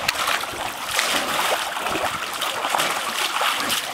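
Water sprays and splashes continuously from a Summer Escapes Volcano Splash backyard water toy, a busy, close spatter with irregular bursts throughout.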